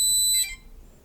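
A drone flight controller's fail-safe buzzer sounds as a steady high-pitched electronic tone, close and clear, then cuts off abruptly after a fraction of a second, leaving quiet room noise.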